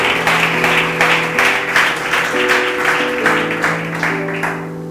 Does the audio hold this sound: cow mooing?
no